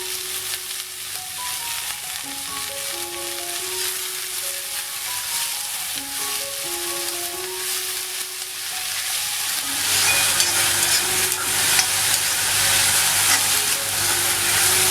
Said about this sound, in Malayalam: അപ്പം ചെറുതായിട്ടൊന്ന് വഴറ്റിയെടുത്താൽ മതി